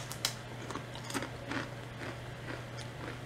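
Someone bites into spicy-flavored snack chips, with a few sharp crunches and softer chewing close to the mic, quiet, with no talk.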